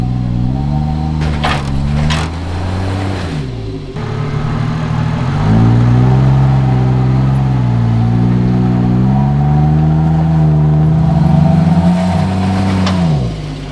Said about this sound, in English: About to drive this little rock step.